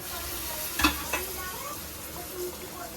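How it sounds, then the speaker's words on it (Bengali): Vegetables frying in oil for fried rice, a quiet steady sizzle with a couple of sharp spatula clacks and light stirring, close and low in level, no talking. "এটা হলো ফ্রাইড রাইসের জন্য ভেজিসগুলো ভেজে নিচ্ছি"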